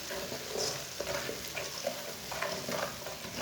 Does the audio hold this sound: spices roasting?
yes